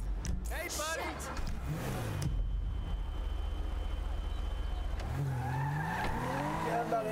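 A small parked sedan is driven off in GTA Online, tires squealing and skidding as the engine revs, with someone talking over it.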